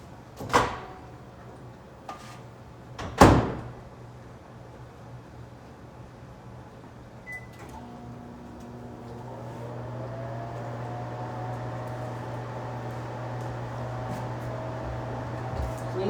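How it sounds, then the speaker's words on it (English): Two sharp clunks of a microwave door and button presses, then a steady low hum as the oven starts running. "now after this step, I put it in the microwave for like 10 seconds"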